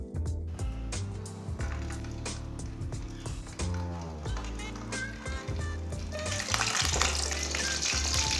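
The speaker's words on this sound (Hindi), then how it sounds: "ऑयल हमारा हल्का सा गर्म हो चुका है। अब आमले डाल लेंगे।" Amla gooseberries dropped into hot oil and frying, a bright steady sizzle with clattering stirs and spoon scrapes that swells louder near the end, close and without talk.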